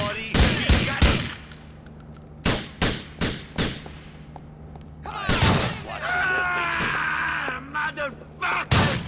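Gunfire in the video game GTA IV: bursts of loud, close shots in rapid clusters with quieter stretches between, other game sounds filling the gaps.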